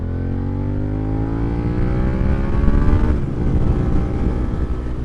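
A Jeep TJ engine revs hard while driving, pitch climbing steadily through a gear before dropping at a shift, then pulling again, loud and close throughout.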